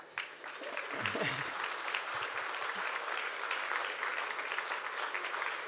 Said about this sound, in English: he's worth an applaud.